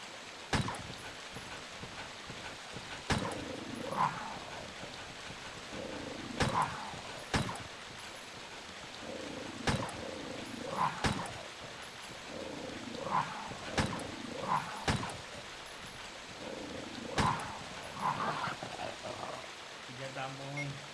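In the Resident Evil video game on PlayStation 3, dogs growl and snarl in repeated bursts over a steady rumble, punctuated by sharp, loud gunshot cracks at irregular intervals.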